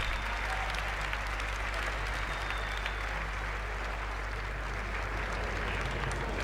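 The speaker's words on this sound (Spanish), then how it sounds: "solo hay 2 pavos aplaudiendo" Thin applause from the audience at Sony's E3 2018 press conference, a continuous low-level patter of clapping heard over a steady hum, fairly distant and unchanging throughout.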